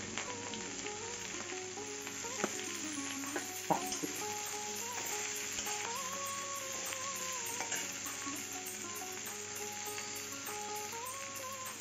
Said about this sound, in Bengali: রসুনটা ভাজা ভাজি হয়ে গেছে, এখন শাকটা দিয়ে দিচ্ছি।